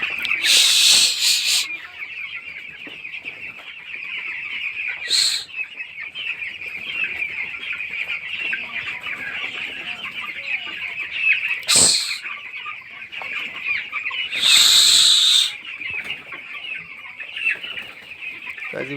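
Broiler chickens on a farm keep up a steady chorus of clucking throughout, with a few louder, sharper squawks and bursts standing out over the continuous flock noise.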